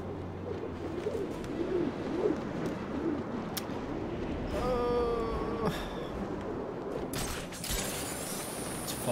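Large crows cawing in the Batman: Arkham City video game, a mix of bird calls and creaking sounds rising over steady game ambience, with a clearer burst of calls midway through.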